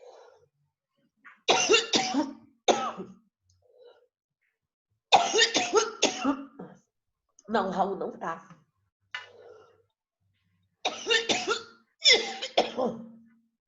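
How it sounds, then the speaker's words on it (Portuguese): A coughing fit of repeated harsh, clustered coughs in separate bursts, with short quiet gaps and a brief spoken phrase in between, close to the microphone. "Desculpa, me deu uma crise de tosse aqui."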